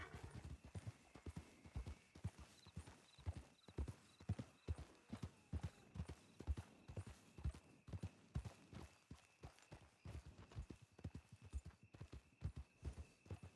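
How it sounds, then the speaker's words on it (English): Horse hooves clip-clop steadily in a video game roleplay, a brisk rhythmic trot sustained throughout with a faint steady tone in the background and no voices. "What the fuck is my horse doing?"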